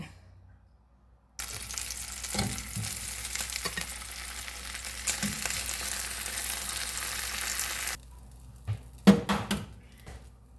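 Bacon and egg frying in a pan for breakfast, a steady crackling sizzle that starts abruptly, runs for several seconds, then cuts out, followed by a few knocks and scrapes.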